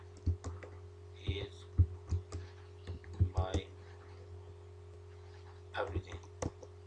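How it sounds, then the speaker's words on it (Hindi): Computer keyboard typing while entering text into an HTML form field: scattered light clicks and taps in short bursts, with brief murmured voice sounds between them. "कुछ भी टाइप कर लो आप"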